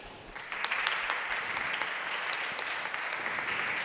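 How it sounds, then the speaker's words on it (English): A crowd at a denim industry panel event claps to welcome the panelists, a soft, even wash of applause heard at some distance that swells slightly after the first half second. "Let's give them a big round of applause and welcome them."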